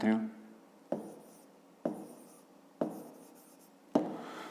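Pen strokes scratch across paper during a fifth-grade math lesson, five distinct bursts spaced about a second apart, each a sharp onset fading into a brief scrape, close and clear with no talking.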